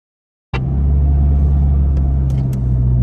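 A 4WD vehicle drives off-road at Cape Elizabeth on the Yorke Peninsula. After a moment of silence its engine cuts in with a loud, close, steady rumble that holds without a break.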